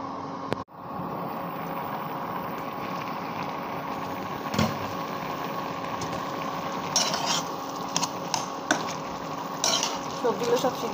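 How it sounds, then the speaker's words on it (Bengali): Boiled vegetables in a vegetarian curry are pressed and mashed with a spatula. Soft scraping and tapping sit over a steady background hiss, with a sharp knock near the start and clustered clicks of metal on the pan toward the end. "সবজিগুলো সব সিদ্ধ হয়ে গেছে, খুন্তি দিয়ে এখন গালিয়ে নিচ্ছি"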